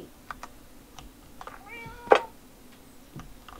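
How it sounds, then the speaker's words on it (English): A cat meows in the Minecraft video game, a short rising-and-falling call near the middle with a sharp click over it, alongside soft keyboard typing and quiet background sounds. "Good kitty."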